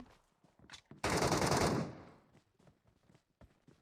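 Loud burst of automatic gunfire in the Metro Royale mode of a mobile shooter game, a dense rapid volley of under a second framed by quieter scattered shots and clicks before and after.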